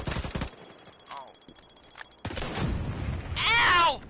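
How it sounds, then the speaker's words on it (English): A grenade explodes amid bursts of gunfire in the shooter game Division 2, loud broadband blasts at the start and again midway, with a short vocal cry rising near the end. "You got hit by a grenade."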